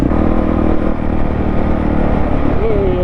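Honda CRF450L or CRF300L dual-sport motorcycle engine lugging low and given short spurts of throttle while crawling over rough terrain, a loud continuous engine drone close by with brief rises in pitch.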